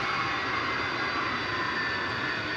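A jet airliner roars at DFW Airport at night, a steady broadband engine rumble that holds constant and loud for the whole stretch, no voices.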